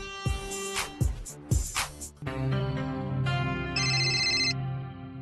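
A phone plays an incoming-call ringtone as a loud, sustained melodic tune, preceded by a few sharp plucked or struck musical hits, with no talking over it.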